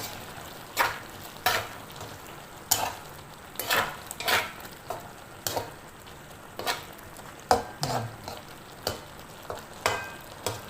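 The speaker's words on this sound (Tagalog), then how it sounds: "Tapos haluin natin siya mga kamaryon." Shrimp stirred in a frying pan for batchoy, with a steady soft sizzle under repeated sharp scrapes and clinks of a utensil against the pan, close and fairly quiet.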